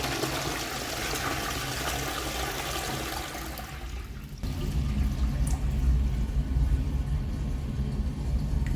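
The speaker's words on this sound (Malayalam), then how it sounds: "ഒന്ന് ഫ്ലഷ് ചെയ്ത് കൊടുക്കാം." A toilet flushes in a bathroom after a cleaning treatment, a steady rushing of water with a low rumble that swells louder about halfway through and keeps running to the end, with no talking.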